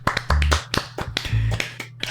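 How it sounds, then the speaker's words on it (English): Small, polite golf claps at a table read: a handful of light, sparse hand claps and taps, close and uneven in rhythm, heard alone without talk. "Everyone does that small golf clap."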